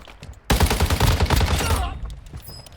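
A rapid automatic burst of gunfire in the mobile shooter Warzone Mobile rattles loudly for about a second and a half after a quiet start, then cuts off into faint game sounds.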